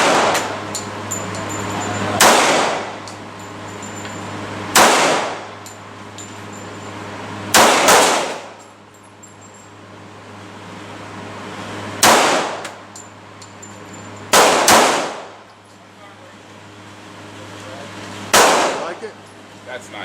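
Loud, sharp shots from a .45 caliber Colt 1911 pistol with a rail, six reports spaced a few seconds apart, each with a short ringing decay over a steady low hum.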